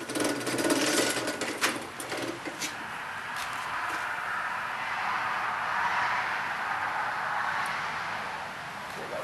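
Thick sheet metal being rolled in a Grizzly T10727 vise-mounted 12-inch slip roll, a steady grinding, whirring mechanical sound running continuously and fairly close throughout, slightly louder at the start.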